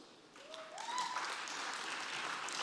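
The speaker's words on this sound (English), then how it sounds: "A round of applause, please. I know it can be better than that." An audience at a summit dinner applauds, and the clapping builds into steady, dense applause that carries on to the end.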